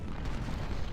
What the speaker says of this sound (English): Counter battery fire.